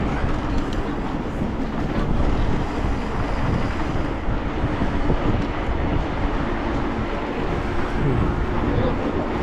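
Strong wind buffets the microphone in a steady, loud roar with no letup, recorded outdoors on a chilly February walk along the Crimean coast near Yalta.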